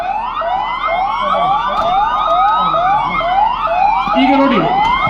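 A wailing ambulance siren at a disaster mock drill in Kolar run with the NDRF, sweeping loudly and repeatedly up and down close by, with faint traffic and voices beneath.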